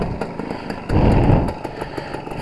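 A Suzuki TS185 motorcycle engine runs steadily nearby after ignition work and a cleaned baffle, a loud two-stroke drone with a brief burst of throttle in the middle before settling back to a steady beat.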